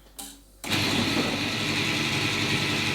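A food processor whirs loudly and steadily, its motor roar starting abruptly after a brief quiet moment while pulsing butter into breadcrumbs for Linzer cookie dough.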